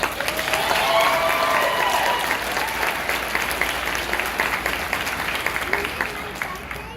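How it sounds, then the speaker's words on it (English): Sustained audience applause for faculty and staff at a nursing pinning ceremony, dense steady clapping from a crowd lasting throughout, with faint voices mixed in. "So let's give them a round of applause."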